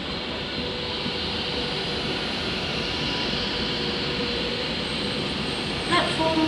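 Train at a Wolverhampton railway station platform, a steady loud rumble and hiss of the engine and carriages with station ambience.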